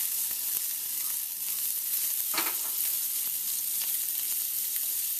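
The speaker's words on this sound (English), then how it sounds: "Just going to saute them briefly just to get them hot." Crawfish tails sautéing in a pan while being heated for an omelet: a constant bright sizzle up close, with a few stirring scrapes and a louder flare of crackling midway, no talking.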